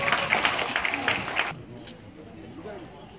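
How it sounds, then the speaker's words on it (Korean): Applause for palanquin bearers at a traditional Korean wedding: a brief burst of dense, crisp clapping that cuts off abruptly about halfway through, leaving quiet murmuring ambience. "우리 수고해준 가마꾼에게 큰 박수 보내주시기 바랍니다"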